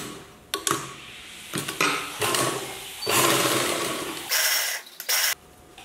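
A sewing machine stitches the folded edge of a chudithar top in several close bursts of whirring, starting and stopping with short pauses between runs, and no one talks.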